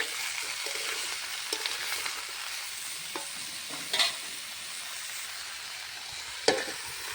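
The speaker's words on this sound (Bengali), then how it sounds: "দিয়ে দেবো স্বাদ মতো নুন, নেড়ে চেড়ে ঢাকনা চাপা দিয়ে দেবো।" Spoon stirring sizzling curry of Malabar spinach or potato and soya chunks in a frying pan, a soft continuous fry with scrapes and knocks, then a sharp clack near the end as a lid is set on the pan.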